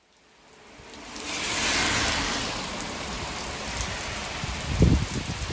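Steady rain falls outdoors near a bus stop during a bikepacking trip in Germany, a broad hissing wash that swells in and holds constant, with a few closer low thuds near the end.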